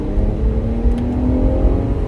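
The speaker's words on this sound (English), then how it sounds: "acceleration's pretty good for such a heavy and big car" Heavy engine of a 2022 Jeep Grand Cherokee Summit Reserve droning and building under acceleration, a steady low roar with a rising whir, close and loud, no voices.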